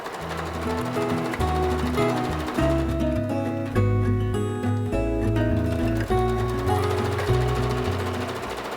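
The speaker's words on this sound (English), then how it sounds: "sew 2 rows of gathering stitches, which are longer stitches, all the way around this top edge" A sewing machine runs steadily, stitching long gathering stitches along the top edge of a dress, its motor changing pitch a few times with brief pauses and restarts.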